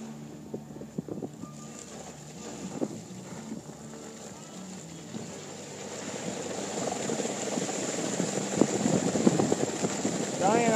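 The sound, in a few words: strong wind and waves on the upper Niagara River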